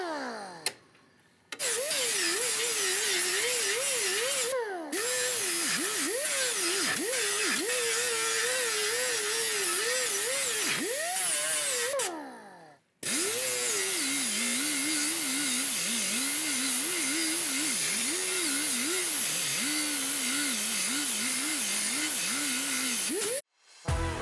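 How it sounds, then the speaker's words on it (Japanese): A power grinder works flat a steel frame section on a Hakosuka Nissan Skyline under restoration. Loud, harsh hissing grind with a wavering whine rises and dips as the load changes, broken by a few short pauses. "ここのここを平らに削って"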